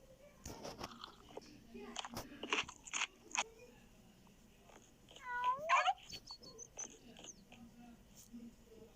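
A cat eats food at home with faint crunchy bites and chewing clicks in quiet bursts, and a short meow rises partway through.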